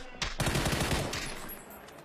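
Automatic gunfire rattles in a PUBG match, a fast burst of shots near the start followed by sustained firing and echoing reports from a building or balcony fight.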